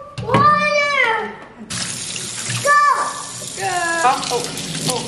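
Tap water gushes into a kitchen sink while a humidifier is being cleaned, a steady close rush of water under an excited adult voice and a child's high squeals.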